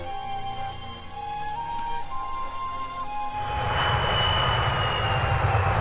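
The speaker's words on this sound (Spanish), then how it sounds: "Ahí están ya los aviones." Airplanes in the strategy game Rise of Nations: a game melody with sustained tones gives way after about three seconds to a loud, steady roar of aircraft engines that fills the rest.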